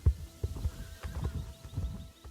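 Horses in the Silverglade Manor update of a video game neigh and clop their hooves, with several short snorting whinnies and thudding hoof beats spread across the clip at a moderate level, no talking.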